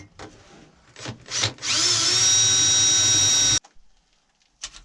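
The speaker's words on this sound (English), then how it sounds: "I'll go ahead and drill my holes here." A power drill whines loudly for about two seconds as it bores into a metal floor pan for a 1957 Chevy, then stops abruptly, with a few handling knocks around it.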